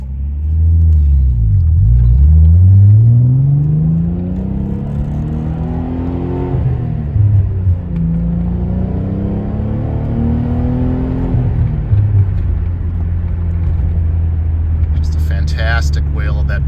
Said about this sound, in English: Fantastic wail of that billy boat exhaust.